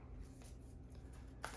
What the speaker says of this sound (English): While I shuffle, I'm looking for the theme.